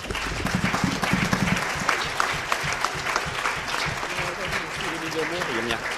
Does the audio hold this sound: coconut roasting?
no